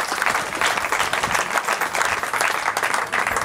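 Steady crowd applause at an outdoor oldtimer car rally in Prinzersdorf, dense clapping that carries evenly for a few seconds with no talk over it.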